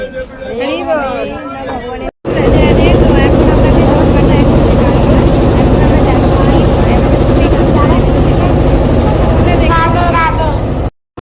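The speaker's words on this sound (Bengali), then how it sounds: "তো আমরা উঠে পড়েছি নৌকাতে। এবার নৌকা থেকে আমরা পার হয়ে আসলাম।" A motorboat crossing the river to Mayapur ghat gives a loud, steady engine drone that runs almost the whole time, with a brief stretch of voices before the engine starts.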